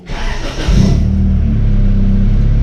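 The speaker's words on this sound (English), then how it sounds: "So let's go ahead and start the car." Honda Integra engine cranking and firing up after a high-amp alternator install, a short starter whir catching into a loud rev, then settling into a steady close idle rumble.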